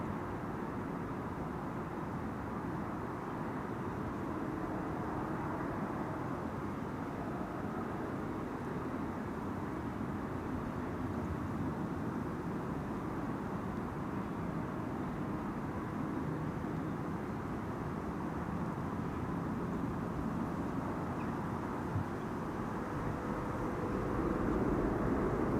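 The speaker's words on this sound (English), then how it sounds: "I also see that Cathay Cargo Flight 2014 has just now landed on" A Cathay Cargo airplane lands on the Polderbaan runway at Amsterdam Schiphol, heard as a distant steady low jet roar that lasts the whole time and swells slightly near the end, with no talking.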